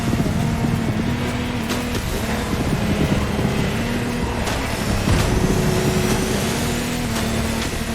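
A motorboat engine in The Crew Motorfest drones steadily with shifting pitch, accompanied by rushing wind and water noise on a turbulent sea, loud and continuous throughout.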